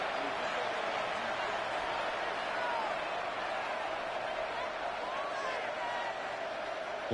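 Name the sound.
football stadium crowd in a video game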